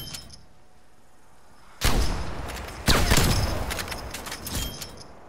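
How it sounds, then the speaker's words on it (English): Two loud shotgun blasts in a first-person shooter, one near 1.8 seconds and another about a second later, each with a ringing decay, over quiet ambient game noise. "I'm using a shotgun."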